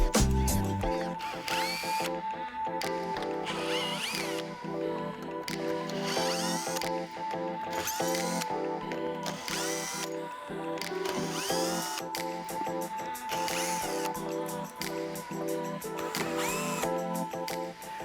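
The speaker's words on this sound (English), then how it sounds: "now we can go ahead and remove the 9 screws behind the panel" A power drill removes the nine screws from behind a dash panel in a Jeep Wrangler during an audio kit install, whirring steadily and loud throughout with repeated bursts and no talk.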